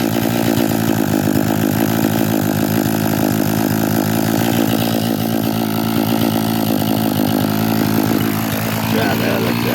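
A Husqvarna T435 chainsaw engine runs steadily at a loud, close idle while brake cleaner is sprayed around it to test for an air leak, holding a constant buzzing drone throughout with no pauses.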